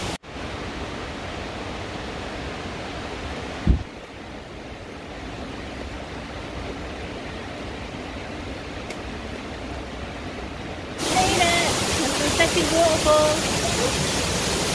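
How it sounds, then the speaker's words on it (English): Rushing water at the Dataw Gyint waterfall near Pyin Oo Lwin, Myanmar, heard as a steady broadband roar throughout, louder and closer in the final few seconds, with a brief knock early on and a voice speaking over it. "The waterfall that we're at now is the second waterfall out of the 4."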